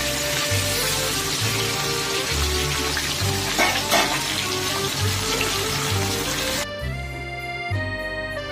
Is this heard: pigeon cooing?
no